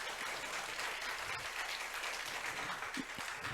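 An audience at a lifelong-learning forum applauds a speaker, the clapping faint and distant but steady and continuous throughout.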